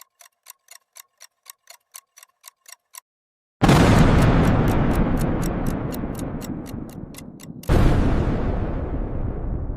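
A sci-fi explosion effect marks a black hole evaporating. A run of sharp, regular ticks leads into a sudden loud roaring blast that slowly fades, then a second boom hits and decays, with the ticking faintly continuing beneath.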